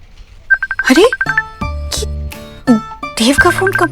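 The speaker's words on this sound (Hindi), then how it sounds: "देव का फोन कंप्यूटर पे कैसे आ रहा है?" An electronic ringtone chimes on an office computer for an incoming call, a bright repeating tone pattern that comes and goes between bursts of nearby talking.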